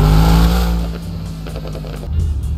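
A BMW X6 in the FiveM game gives a loud, close engine and exhaust roar, with crackling pops and bangs breaking through toward the end.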